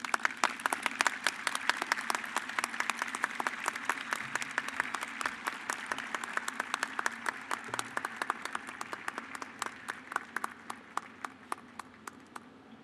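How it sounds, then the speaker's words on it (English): Commencement audience at the SJU Class of 2021 ceremony gives a round of applause for a Master of Theology graduate: sustained crowd clapping in a large space, thinning toward the end into a few sharp, separate claps. "Please join me in a round of applause."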